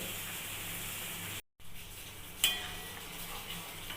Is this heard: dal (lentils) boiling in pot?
yes